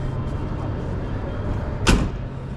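Door of a 60-year-old classic car shutting, one short solid thud against a steady background hum.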